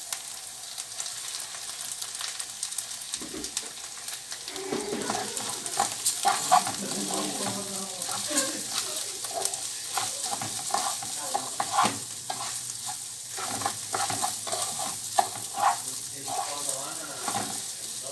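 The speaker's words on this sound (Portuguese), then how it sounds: "Aqui é só refogar o arroz, como se estivesse fazendo um arroz convencional mesmo, tá?" Rice sautéing in a pan for caprese risotto, a 450-gram batch for five people, sizzles steadily up close while a spoon scrapes and stirs it in repeated strokes throughout.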